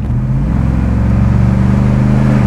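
A 1978 Ford Thunderbird Diamond Jubilee Edition with a 6.6-liter V8 pulls hard from inside the cabin, its engine drone steady and loud as it gathers speed without letting up.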